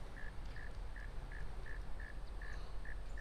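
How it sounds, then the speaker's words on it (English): Frogs call at night in Louisiana as an evenly spaced series of high, chirping pips, about nine in three seconds, faint against a steady outdoor hiss. "You can hear frogs cricketing."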